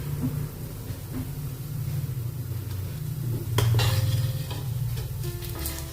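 Vegetable koftas sizzle steadily in hot oil in a pan while a spoon scrapes and clinks as they are lifted out onto a plate, with sharper metallic knocks near the end.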